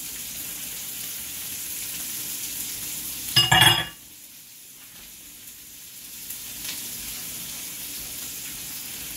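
Garlic hits a hot pan of onions for chicken lo mein. A brief loud crackling burst rises over a low steady sizzle, then quieter frying continues, alone.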